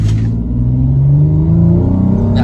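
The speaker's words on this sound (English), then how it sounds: "Here, let's give it another one of those acceleration tests. I'll just floor it." A 2017 Toyota FJ Cruiser's 4-liter engine with a TRD exhaust pulls hard under full throttle, a deep rumble climbing steadily in pitch as it accelerates, heard from inside without talk.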